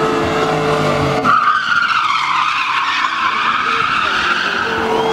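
A car skids with a sharp, rising tire squeal during a speed-maneuvering competition stage in Mogilev, loud and close, with engine noise underneath.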